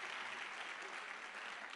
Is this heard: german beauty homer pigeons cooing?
no